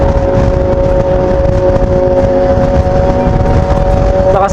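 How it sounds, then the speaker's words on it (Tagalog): Loud, steady rumble of a nearby motorcycle engine running continuously with a sustained droning hum. "Lakas ang tunog ng motor niya."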